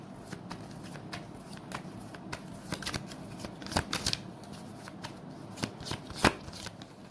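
Tarot cards are shuffled in quick, crisp riffling bursts and soft slaps, close and fairly quiet, before a single card is drawn.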